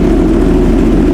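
A Yamaha R1 sport motorcycle engine running loud and close after start-up, a steady dense low rumble with no pauses or voices.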